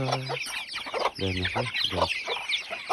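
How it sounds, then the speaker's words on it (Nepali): Chickens clucking close by in a lively, uneven run of calls, several birds overlapping as they crowd around a person for feed. "कुखुराले घेर्यो है, कुखुराले घेर्यो।"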